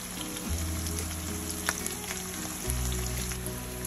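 Chopped yellow onion in large pieces, jalapeno slices and plenty of garlic sizzle steadily in olive oil in a pan, a dense continuous frying crackle with a few sharper pops and low rumbling underneath.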